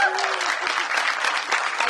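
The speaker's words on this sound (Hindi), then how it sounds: "तो बहुत जोरदार तालियां" Audience applause at a music launch event for an Indian song, a dense steady wash of clapping filling the short stretch with no pauses.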